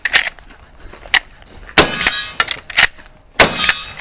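Shotgun blasts in a cowboy action shooting stage ring off steel targets, four or five sharp loud bangs, each followed by a bright metallic clang, spaced about a second apart.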